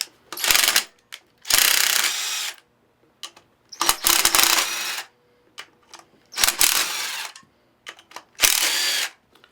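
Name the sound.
5/16 socket ratchet removing pump motor through bolts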